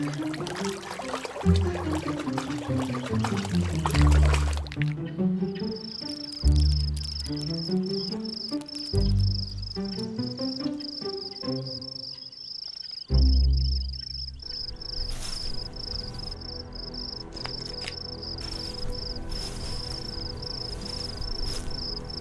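Crickets living near mountain streams chirp in a steady high, rapid trill that runs through most of the stretch, alongside louder bursts of tonal music and trickling, watery sounds.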